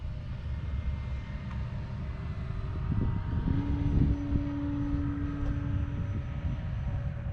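An E-flite Carbon Z T-28 electric RC warbird flies overhead, its motor a steady whine that rises and falls as it passes, loudest around the middle and fading back under outdoor wind noise.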